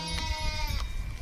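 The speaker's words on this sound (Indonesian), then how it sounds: "Yang ini domba." A sheep in the video game Jurassic World Evolution 2 gives one sustained, nasal bleat, close and clear over a low in-game background rumble.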